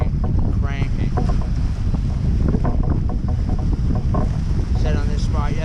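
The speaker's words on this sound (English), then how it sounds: "You can see the wind is cranking." Strong wind roars steadily across a kayak out on Lake Erie during a bass fishing tournament, a constant close buffeting rush with water slapping the hull and brief chirping sounds above it.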